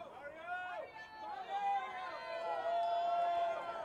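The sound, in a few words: crowd cheering at racquetball final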